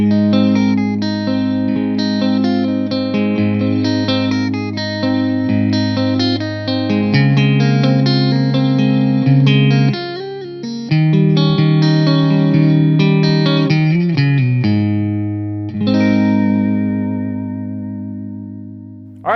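Clean-channel tones from a Laboga Mr Hector high-gain metal guitar amp, with chorus-like modulation and effects: sustained chords and picked notes ringing out loud and close, decaying and restarting in phrases, with no talking.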